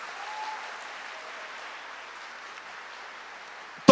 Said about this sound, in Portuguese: pode aplaudir. Aplaude, aplaude, aplaude